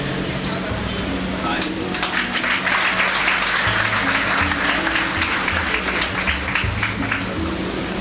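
Audience clapping at an award ceremony, a dense patter of applause that swells in the middle, with background hum and speech running underneath throughout.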